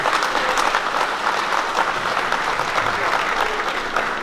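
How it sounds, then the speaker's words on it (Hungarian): Audience at a shepherds' ball in Oroszhegy breaks into sustained applause, a dense, even clapping from a sizeable crowd that carries on steadily throughout. "egy nagy tapsot kérünk neki"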